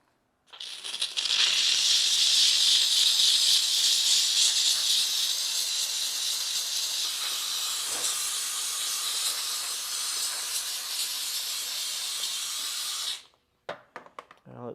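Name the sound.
steam cleaner spraying steam on car engine lines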